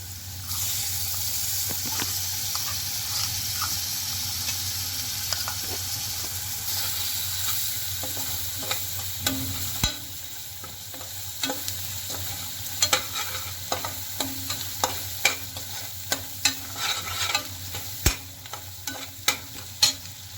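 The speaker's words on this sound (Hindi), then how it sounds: "अब हम इसमें मलाई डालेंगे" Cream cooking in a hot pan gives a continuous low sizzle under repeated scraping and clinking of a spoon stirring against the pan, growing more frequent toward the end, with no voices.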